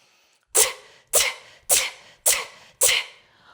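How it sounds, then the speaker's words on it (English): A person makes sharp hissing 'tss' power-breathing exhales while bracing the core, as in kettlebell swing practice: five crisp, evenly spaced bursts, close to the mic, with no talking. "make a TS sound power breathing"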